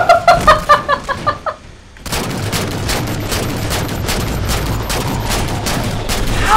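Rapid DMR gunfire in Halo 4 multiplayer on Landfall opens with a rhythmic string of sharp shots. After a brief lull, a dense, steady wash of battle noise follows.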